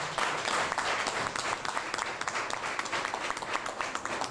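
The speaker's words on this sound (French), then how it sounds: "je vous dis de vous applaudir très fort d'abord" A crowd applauds loudly at a medical foundation gathering, a dense, uneven burst of many hands clapping that swells near the start and carries on throughout.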